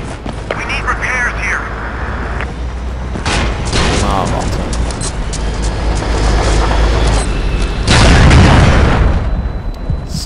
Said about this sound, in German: Wer schießt hier?